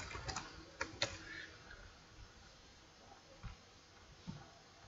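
A computer keyboard is typed on in a few faint, sparse clicks and keystrokes, quiet and close against a low background hiss.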